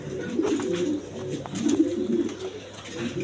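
A big-sized pair of Lahori pigeons, male and female, gives soft repeated throaty coos in short pulsing bursts, close by and alone without speech.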